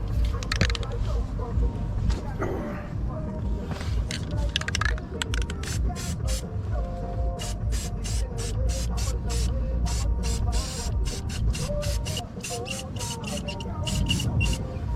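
Short bursts of spray paint hiss rapidly in quick pulses as car rims are painted black, close and loud over a low background hum, with a voice talking early on.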